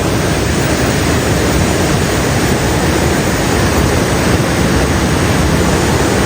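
Kong Kaew waterfall at Khao Yai roars during rain as a steady, loud, broadband rush of falling water that stays constant throughout, with no voices.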